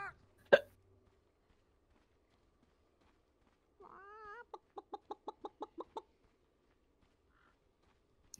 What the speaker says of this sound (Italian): Si scambiano versi di pollo.